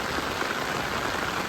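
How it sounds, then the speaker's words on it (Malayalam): Heavy rain pours steadily near a river during an evening fishing outing, a dense, even hiss of drops on surfaces with no voices. "മഴ നന്നായിട്ട് കൂടുന്നുണ്ട്."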